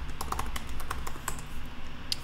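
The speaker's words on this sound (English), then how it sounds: "And I have to type things right." Typing on a computer keyboard while logging into a WordPress admin, a quick irregular patter of close, crisp key taps with no talking.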